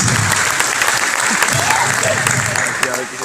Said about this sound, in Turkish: Büyük bir alkış.